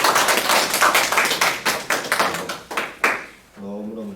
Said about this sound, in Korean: 다시 한번 주님의 사랑을 담아서 다시 한번 박수로 축복할까요?